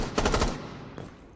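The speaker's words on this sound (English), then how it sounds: "Let's take a listen to the gunshots and the footsteps and see how different they sound." Rainbow Six gunfire in a large, echoey room: a loud rapid burst of shots with a long reverberant tail, then a single fainter shot, with no talking.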